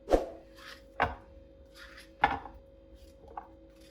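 A knife cuts through pumpkin into pieces on a board, with four distinct chopping thuds at uneven intervals and softer scraping and rustling between them over a faint steady hum.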